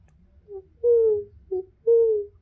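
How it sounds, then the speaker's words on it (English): Two drowsy barn owl hoots, each a short note followed by a longer drawn-out call, sound alone against a quiet farmhouse night with a faint low rumble beneath. "Drowsy barn owl speaks."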